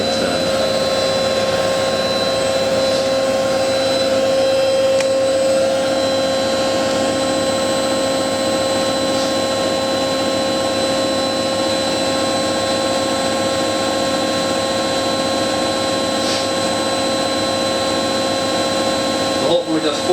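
A Miele W562 washing machine spinning on a woollens wash: a steady, loud high-speed whine with a continuous mechanical roar and constant tonal hum, unchanging throughout.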